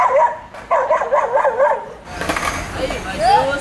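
Dog barking in short bursts close by during a casual hangout, with yips and whimpers in quick succession, someone talking over and after the barks.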